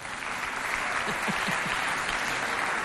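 Sustained applause from an audience fills the whole stretch, a dense, even wash of clapping at steady volume.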